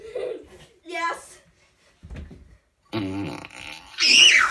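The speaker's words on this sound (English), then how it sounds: "Shall I play another fart sound?" A smart speaker plays comedic fart sound effects, several separate blasts of varied length including a pushing, buzzing one and a squeaky, rising one, loud and close, broken by short silences.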